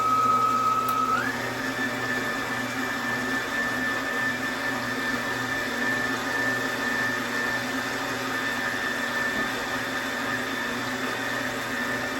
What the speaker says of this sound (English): Put your whisk on here. And blend that sucker up.